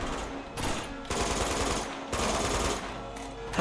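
Gunfire in the video game Uncharted 2 on PS4, sustained bursts of rapid automatic fire with brief gaps between volleys.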